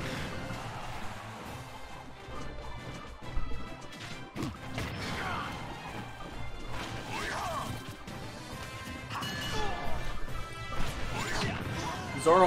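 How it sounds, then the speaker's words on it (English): Heavy smash attacks land in a Super Smash Bros. amiibo tournament match between Little Mac and Meta Knight, with sharp cracking hits and whooshes scattered over game music while a commentator talks throughout. "he's hitting into a lot of the smash attacks"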